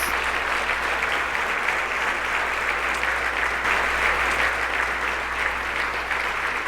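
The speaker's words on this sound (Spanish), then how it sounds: "Dale un buen aplauso a Dios" A church congregation applauds during a worship service, a steady, dense wash of many hands clapping that holds at an even level throughout, with no voices standing out.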